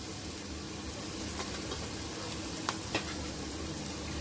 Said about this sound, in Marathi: एक 2 मिनिटं परतायचं, जास्त नाही.